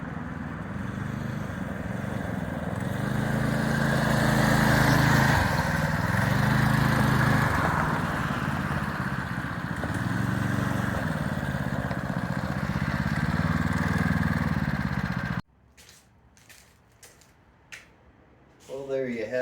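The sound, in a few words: Heald supertrike small engine running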